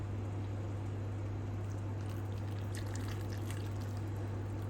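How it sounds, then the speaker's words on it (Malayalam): Hot water poured from a glass onto chopped chillies for a Kerala watermelon pickle, a steady, close splashing stream over a constant low electrical hum, with no talking. "എന്നിട്ട് നമുക്ക് കുറച്ച് 2 ഗ്ലാസ് ചൂടുവെള്ളം നമുക്ക് ഒഴിച്ചു കൊടുക്കാം."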